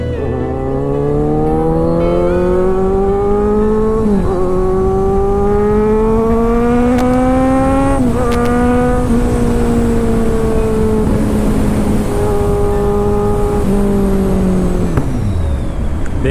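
A Kawasaki inline-four superbike engine revs hard and climbs through the gears, its harmonic whine rising in several long sweeps, each broken by a brief dip at the shift, then falling away at the end, loud and close with no talk.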